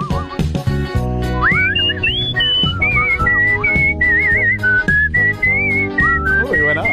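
A man whistles a lively, wavering melody, loud and near, with quick pitch slides and trills over steady background accompaniment.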